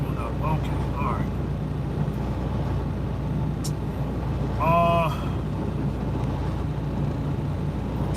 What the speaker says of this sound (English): Got the truck running, so y'all hear that in the background